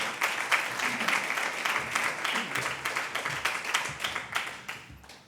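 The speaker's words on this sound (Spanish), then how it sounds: "Un aplauso para ella" A live audience gives a sustained round of applause for Eva Ortega, Secretaria General de Investigación, at the close of an academic event, with dense steady clapping throughout and no talk over it.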